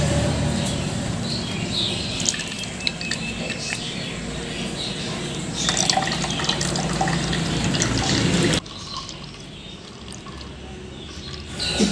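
Cucumber juice is poured and strained through a filter, giving a steady close trickle and splashing of liquid that runs continuously and then drops to a quieter flow near the end.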